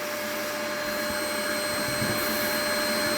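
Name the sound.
vacuum cleaner running with a sand blast cabinet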